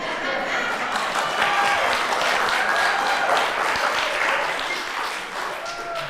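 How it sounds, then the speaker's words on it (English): Audience at an annual meeting applauds, a sustained, loud and even wash of many hands clapping with faint crowd murmur throughout. "we need to give this person a lot of applause"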